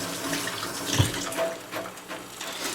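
Tap water runs steadily into a kitchen sink for hand washing, a close, continuous splashing hiss with slight shifts as the hands move under the stream.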